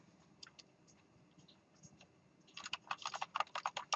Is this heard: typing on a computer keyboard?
yes